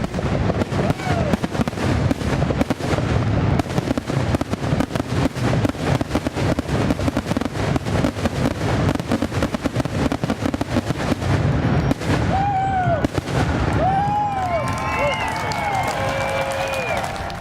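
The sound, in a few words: fireworks show over a lake with a finale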